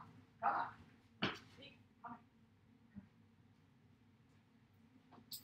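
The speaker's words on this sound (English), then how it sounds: "The dog that always whines." A dog whines and yips in a few short, high bursts, with a soft bark-like sound among them, fairly quiet indoors with pauses between cries.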